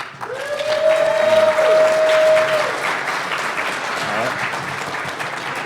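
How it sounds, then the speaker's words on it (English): An audience at a security conference talk breaks into applause, a broad wash of clapping that swells in the first seconds and then fades gradually. A sustained tone briefly rides over it early on. "So please give them a warm round of applause."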